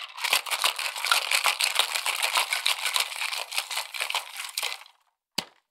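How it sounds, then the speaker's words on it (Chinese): Ice rattles hard inside a cocktail shaker holding a plum cocktail with lemon juice and osmanthus syrup, a dense, rapid, continuous clatter for nearly five seconds that stops abruptly, followed by a single sharp knock. "大力摇合。"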